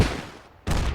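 Video game gunfire: a loud burst decays over about half a second, then a second sharp volley cuts in and keeps roaring to the end, close and with no voices.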